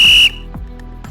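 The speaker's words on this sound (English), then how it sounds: "So I'm gonna take the start sound referee whistle by clicking here" A referee whistle sound effect from Scratch gives one loud, shrill blast lasting about a quarter second, then cuts off sharply to near silence.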